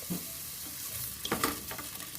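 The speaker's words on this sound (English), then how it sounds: "I'm going to stir this pretty vigorously for a moment" Tofu and quinoa stir fry being stirred vigorously in hot coconut oil over high heat, with a steady close sizzle and a few sharper scraping strokes of the utensil in the pan, no talking.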